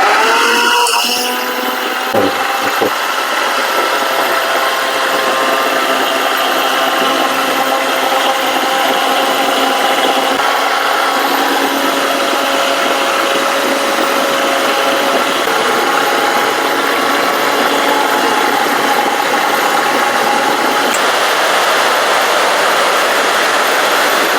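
A mixer grinder fitted with an attachment runs continuously at high speed, a loud steady whine and motor roar that starts abruptly and holds for the full length with no talk.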